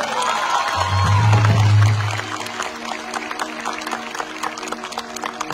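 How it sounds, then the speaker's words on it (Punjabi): An audience at a live Satinder Sartaaj show at PAU Ludhiana bursts into loud, dense applause and cheering that fades after a few seconds, leaving scattered claps and crowd murmur. "ਉਹਦੇ ਨਾਮ ਦੀ ਜ਼ੋਰ ਦਾ ਤਾੜੀ ਮਾਰ ਦੇ"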